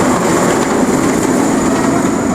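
Roller coaster train running over the final bunny hop of a theme park track before the brake run, a loud, steady, continuous rumble and roar of wheels on track with no break.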